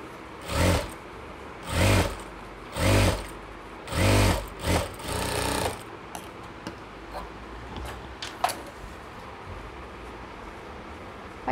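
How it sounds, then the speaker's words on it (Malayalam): A sewing machine stitches piping along the edge of a nightie, running in about five short, even bursts of whirring before stopping, then faint clicks and handling noises. "ഈ എഡ്ജിൽ കൂടെ സ്റ്റിച്ച് ചെയ്ത് കൊടുക്കുക"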